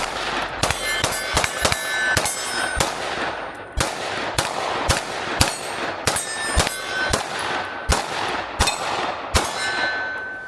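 Rapid string of sharp gunshots from a Ruger RXM 9mm pistol, about fifteen loud cracks with a metallic ring, fired at an uneven, quick rhythm with brief gaps, no talking.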